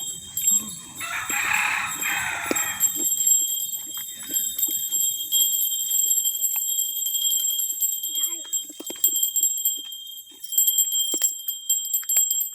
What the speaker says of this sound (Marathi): छान पैकी घंटा वाजवतो बघा